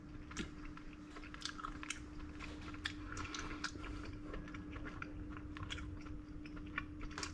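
Someone eats smoked brown trout up close, with soft, quiet, irregular chewing and bites over a faint steady hum.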